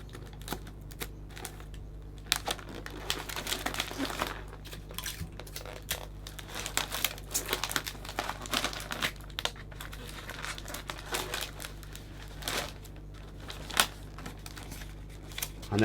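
Crinkly wrapping material being folded and crumpled by hand around a hand-tied Christmas arrangement, a close, busy run of rustles and crackles with no talking.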